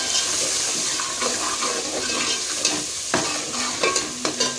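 A spoon stirs masala with red chili and turmeric as it fries in a pan, giving scraping strokes over a steady sizzle, close up with no talking.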